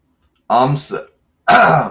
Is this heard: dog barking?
no